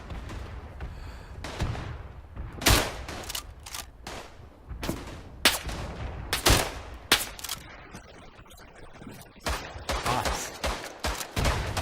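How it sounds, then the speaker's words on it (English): Gunfire in the World War I video game Tannenberg: scattered rifle shots and short volleys cracking at varying distances, some close and loud, others distant, irregular over about twelve seconds with no speech. "Who's shooting at me?"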